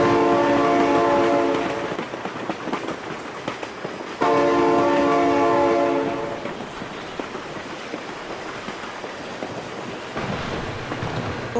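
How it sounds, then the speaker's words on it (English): A train in the BeamNG driving game sounds its horn in two long, loud sustained blasts separated by a short gap, over the continuous rumble and rattle of the passing cars. "no! Oh my god, train!"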